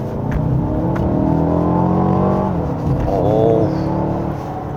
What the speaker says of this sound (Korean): 약간 배기음 같은 게 지금 들리고 있거든요